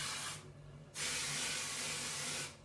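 L'Oréal Magic Retouch root touch-up aerosol sprayed onto hair roots, two soft, steady hissing bursts close by, the first short and the second longer, with no talk over them.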